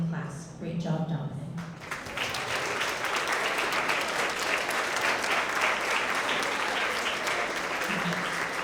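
Applause for school PE Tigers of the Quarter award winners, a voice speaking briefly at first before the crowd breaks into sustained, dense clapping that fills the hall.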